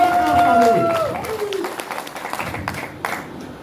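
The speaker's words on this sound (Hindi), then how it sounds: "एक बार हम उनके लिए जोरदार ताली बजाएं" Audience applause at an international business seminar: a burst of scattered clapping that builds after a brief vocal tone and carries on steadily to the end, fairly close and moderately loud.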